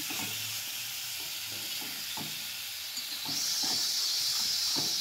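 500 grams of chicken pieces fry in a spice masala over low to medium heat, a continuous hiss and sizzle that grows louder and brighter partway through, with faint stirring taps underneath and no one speaking.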